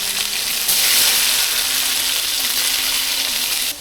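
Prawns sizzle loudly in a pan with coconut milk and onion-garlic paste, a dense, close frying hiss swelling briefly near the start and holding steady before cutting off at the end.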